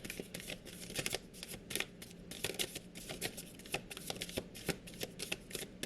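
Tarot cards riffle and slap together in quick bursts, a close, crisp flutter repeating in uneven rhythm through the whole stretch, with no talking.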